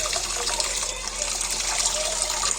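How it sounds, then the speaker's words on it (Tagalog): Water pouring and swishing while rice is washed, a continuous, fairly loud gushing rush with no talk over it. "Hugasan ko muna siya ng 3 o 2 beses."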